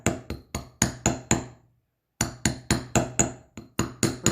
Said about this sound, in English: So I want you to hammer it until your wire is nice and firm.